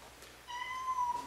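A cat meows in a drawn-out, tonal cry of about a second, fairly close and alone over a quiet room, during a craps dice game at home.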